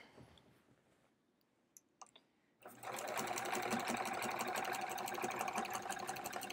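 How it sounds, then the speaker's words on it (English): A sewing machine quilting, stitching in the ditch with dark blue thread, starts after a few faint clicks and runs in a steady, close, rapid mechanical hum. "I'm stitching in the ditch as best I can"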